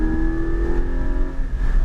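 Race car accelerating hard around Portland International Speedway, a steady loud engine note climbing in pitch from close inside the cabin, with no talk over it.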